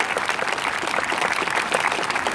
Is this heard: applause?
yes